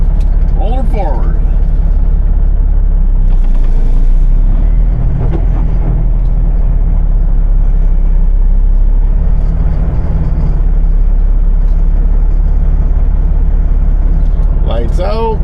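Loaded grain truck hauling rye, engine droning low and steady as it creeps forward, with a hiss of air brakes and people talking over the rumble.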